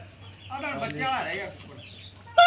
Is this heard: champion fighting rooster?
yes